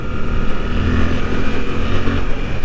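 A steady, loud engine drone with throaty rumble, a Suzuki GSX-8R sport motorcycle engine running up through its revs up close, with no voices.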